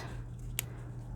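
A single short snip of scissors cutting paper for a checkbook notebook cover, one crisp close cut over a low background hum.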